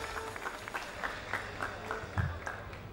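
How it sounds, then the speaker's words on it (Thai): A crowd applauds a boxer at a world title fight in Thailand, with steady scattered clapping and crowd murmur, plus a few louder bursts and a low thump near the end. "ปรบมือให้กับโกกิเอโตะด้วยครับ"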